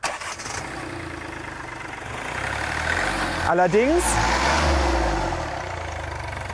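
A Hyundai i20 with a 1.1-litre three-cylinder diesel engine revs. A rough, gruff rumble swells and rises in pitch midway, and a voice speaks briefly.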